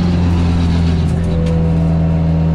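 Mitsubishi Lancer Evo 6 engine, very loud and close, a steady deep rumbling drone with strong low harmonics and a slight rise in pitch, no talking.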